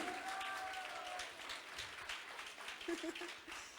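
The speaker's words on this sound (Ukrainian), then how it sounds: "Друзі, ваші аплодисменти." Audience applause greets a speaker at a storytelling event, a steady wash of clapping from a crowd with a few voices and whistles rising over it near the end.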